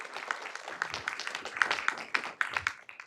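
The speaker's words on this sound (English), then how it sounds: "let's have a round of applause for our scouts" An audience at a city council meeting claps in a modest, uneven round of applause for the scouts, with scattered individual claps heard fairly near and at low overall volume.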